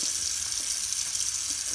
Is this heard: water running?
yes